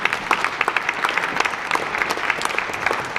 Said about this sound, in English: give them a round of applause, would you?